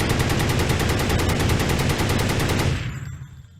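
Rapid automatic cannon fire from an aircraft weapon in the Minecraft MCHeli mod, a dense continuous rattle of evenly spaced shots lasting about two and a half seconds, then cutting off into a fading hiss.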